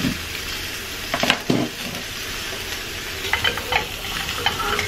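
Pork steaks sizzle in a pan over medium-high heat, a steady bright frying hiss broken by a few sharp crackles and stirring clatters, close up and with no one talking.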